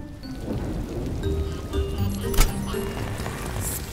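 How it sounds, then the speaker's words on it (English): Steady rain pattering down in a dense, even hiss, with a short sharper crack about halfway through. "With this rain"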